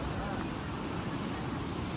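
Fast-flowing flood water after heavy rain in Baran district, Rajasthan, rushes as a loud, dense, continuous roar with no breaks.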